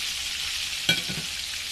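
Fish frying in a pan gives a steady, moderate sizzle throughout, broken near the middle by a brief clatter of a utensil against the pan.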